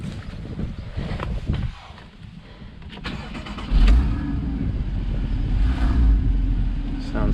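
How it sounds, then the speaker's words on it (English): A Porsche Boxster S 981 engine fires up with a low rumble about midway, then settles into a steady idle with slight revs, following quiet ambient noise and some speech. "Let me start it up."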